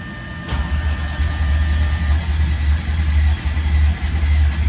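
A modified Audi B8 S4 drift car engine with an upgraded fuel pump fires up on its first start and settles into a steady, loud, close idle with a deep low rumble, no talking.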